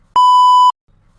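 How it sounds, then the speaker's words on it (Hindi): A single high-pitched electronic beep from a household appliance, one steady clear tone lasting about half a second, loud and isolated against near silence. "अप्लायंसेस की बीप की आवाज़। हम इन्हें हाई पिच साउंड कहते हैं।"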